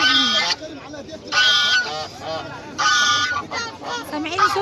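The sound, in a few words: ornamental geese honking at a market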